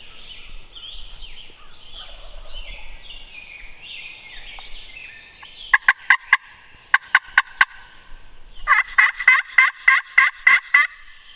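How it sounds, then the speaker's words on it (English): A wild turkey gobbling in Western New York woods during spring: two loud, rattling gobble bursts from fairly close, the second longer, following softer background bird calls. "I got a turkey gobbling right down where I got attacked by the yellow jackets."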